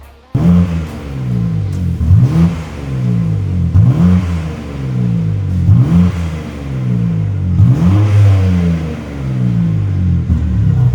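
A loud sports car engine with its exhaust valve open revs repeatedly in rising surges, deep burbling exhaust roaring up close with rhythmic swells over about ten seconds.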